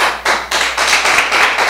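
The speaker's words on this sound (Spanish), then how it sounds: "Dale un fuerte aplauso al Señor." A church congregation claps together in strong, rhythmic unison, with about six or seven sharp, evenly spaced bursts of many hands sounding loud and close.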